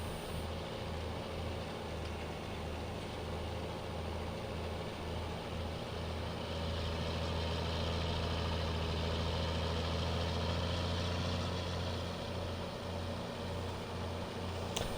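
A modded tractor idles in Farming Simulator 19, a steady low diesel rumble with a pulsing throb that swells slightly partway through and continues unbroken, with no speech.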